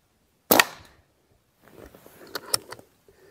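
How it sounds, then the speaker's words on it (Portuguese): A Rossi Outlander carbine fires a slug in a single sharp, loud report that decays quickly, followed after a pause by clicks and metallic handling noises as the gun is worked. "Terceiro disparo."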